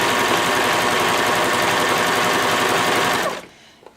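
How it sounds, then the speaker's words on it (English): A serger with an elastic foot and its blade engaged stitches fabric in a loud, steady, rapid mechanical whir that runs close and continuous for about three seconds before stopping abruptly. "and I'm just going to stitch"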